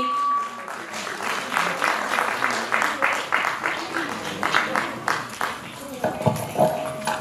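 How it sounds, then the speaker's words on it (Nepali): Audience in a hall at a folk duet song award final claps in a sustained burst of applause, with rhythmic clapping swells and a voice talking over it at moments. "यो अवसरमा यहाँहरूले जोरदार तालीले पक्कै पनि"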